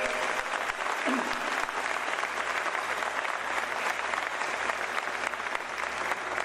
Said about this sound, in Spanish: Le pido que se pare para que le den un aplauso como se lo merece.